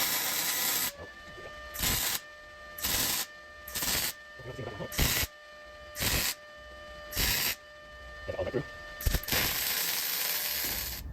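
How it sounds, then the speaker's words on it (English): A welding torch heats a steering column mount on a 1937 Lincoln Zephyr, giving a steady hiss broken by regular, louder roaring bursts about once a second, close and continuous. "I'm gonna go ahead and really start welding into this"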